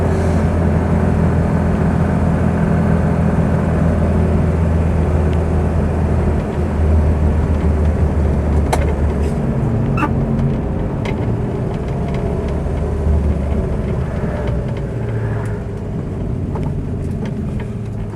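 A Morris Minor 1000 two-door car creeps slowly along a wet road with puddles, giving a continuous low engine drone with faint higher ticks and rumbles, and no voices.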